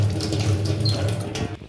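An object rinsed clean under a running tap, a steady near rush of water splashing into a sink that fades at the end.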